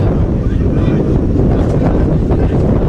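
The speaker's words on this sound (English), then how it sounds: "Very windy evening here in Yuma tonight." Strong evening wind in Yuma, Arizona roars and buffets the microphone continuously, a dense low rumble with gusty surges throughout.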